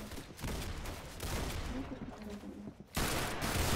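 Gunfire in Roblox Arsenal played on a Miami server: a rapid burst of shots followed by a short lull, then another loud volley, with players chatting over the game sounds.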